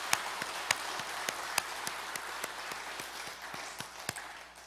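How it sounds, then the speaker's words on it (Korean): A church congregation applauds during a Sunday worship service, with scattered, fairly soft claps in an irregular patter heard from a distance in a large room. "우리 하나님께 영광과 감사의 박수 드리겠습니다"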